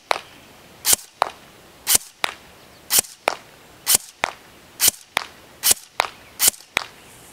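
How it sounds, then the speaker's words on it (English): A Smith & Wesson M&P 15 airsoft electric rifle fires single shots at an outdoor range, about a dozen sharp, snappy cracks in a steady rhythm roughly two-thirds of a second apart, each dying away quickly into quiet. "let's go ahead and test the range and accuracy of the Smith & Wesson M&P M4"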